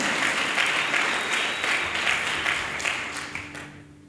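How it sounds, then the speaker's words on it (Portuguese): Congregation in a church applauding, a dense burst of clapping that holds steady and then fades out toward the end. "Você pode aplaudi-lo, meu irmão?"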